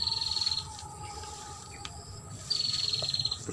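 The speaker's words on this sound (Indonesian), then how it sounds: "burung penjak nih" Two bursts of high, buzzy trilling calls, near and fairly clear, from a red-headed prenjak bird, separated by a quieter gap with faint background insect noise.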